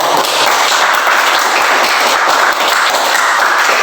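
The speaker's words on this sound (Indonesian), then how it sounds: "Berikan juga aplaus." A group of participants in a teacher-training class gives a round of applause, dense rapid clapping that is loud and steady from start to finish with no talk over it.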